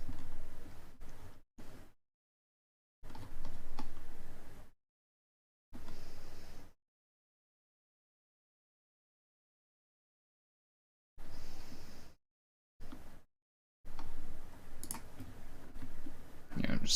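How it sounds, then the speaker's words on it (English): Typing on a CM Storm mechanical keyboard: bursts of clicky keystrokes come in scattered clusters separated by long silent gaps, close and moderately loud with no talk over them. "Well, I don't think I need to tell you it's a mechanical keyboard."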